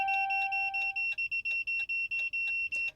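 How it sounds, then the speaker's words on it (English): A scanner tool plays a short electronic beeping tune while pairing a 2009-2012 Dodge Ram key fob: a steady tone, then a rapid run of pitched beeps in quick rhythm, ending in a brief burst. "we should hear some music coming from the scanner."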